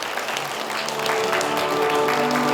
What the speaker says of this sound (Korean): 응원의 박수 부탁드립니다.